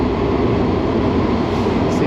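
Inside a running Washington Metro subway car there is a loud, steady rumble of wheels and motors, with a continuous broadband roar and no clear voices over it.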